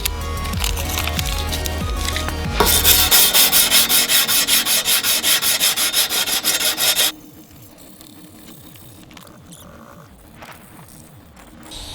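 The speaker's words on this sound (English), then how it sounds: "So we're going to sand that up before we paint it." Mill scale is sanded off hot rolled steel angle iron in rhythmic, loud rasping back-and-forth strokes up close, then the work drops to quieter, scattered scraping.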